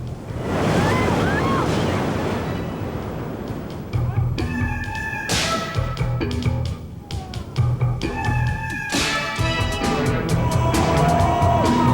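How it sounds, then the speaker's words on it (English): Surprise Rapid, a Class III stopper on West Virginia's New River, roars with continuous churning whitewater and broadband surf-like rush, steady and close throughout, with brief tonal knocks and bumps over the constant flow. "Surprise Rapid. It's a real stopper, and swimming is not uncommon."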